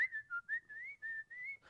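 A person whistles a simple melody, close and fairly quiet, in a string of short sustained notes separated by brief breaths.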